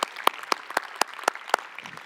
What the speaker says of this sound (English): Applause also for the people behind the curtain, right?